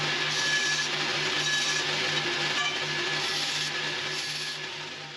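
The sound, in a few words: sawing the larger piece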